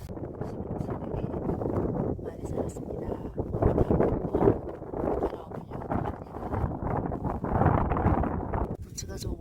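Strong wind gusts buffet the microphone outdoors in a farm field, a low rumbling roar that surges and eases in waves and stays loud and close throughout.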